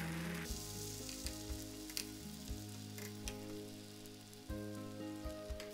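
An omelette sizzles in oil in a frying pan while Japanese chirashi-zushi is prepared, giving a steady, close hiss with faint crackles and occasional soft clicks.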